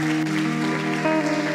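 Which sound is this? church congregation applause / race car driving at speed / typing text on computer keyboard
church congregation applause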